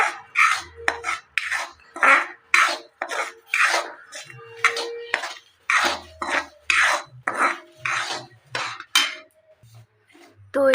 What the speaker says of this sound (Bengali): এরপর সুজিটাকে ভালোভাবে নাড়ব। সুজিটাকে আমরা একটু লাল লাল করে ভেজে নেব।